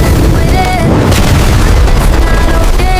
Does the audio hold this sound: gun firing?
yes